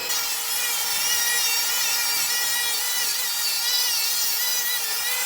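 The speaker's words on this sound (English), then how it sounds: "We're going to cut 6 of those off of what we have left of our 4x8 sheet of 3/4 inch plywood." A power saw cuts 3/4 inch plywood sheet into rails, a steady high whining drone held at even loudness for the whole stretch, close and without pauses.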